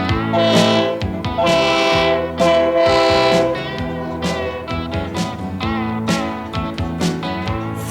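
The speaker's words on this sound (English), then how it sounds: "Freight trains are used to carry all kinds of heavy loads, and they are the workhorses of America's rails" Freight train on an American railroad passing close by, its horn sounding in long, loud blasts over the heavy rumble and clatter of rolling cars.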